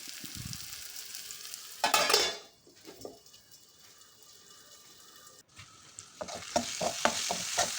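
Tomatoes for kadala curry stirred and cooking in a pan on the stove over low heat: scraping stirs and clinks of utensil against pan, a soft lid-like clatter, then steady frying sizzle and quick tapping near the end.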